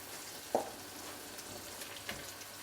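Adobo sizzles steadily in a pan while a spoon stirs it, giving a soft, even frying hiss with a couple of faint clinks.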